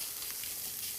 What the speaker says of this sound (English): So just let it sizzle.